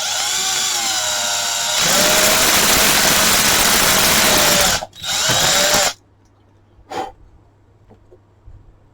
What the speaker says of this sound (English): So let's pre-drill all 4 holes.